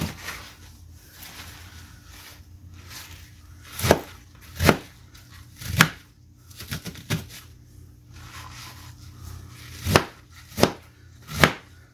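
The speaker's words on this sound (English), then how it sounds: "Now I'm just chopping up this cabbage" A knife chops through cabbage on a cutting board in separate, sharp thuds, a few irregular strikes spread across the span. They are close and fairly loud over a quiet background, with no talking.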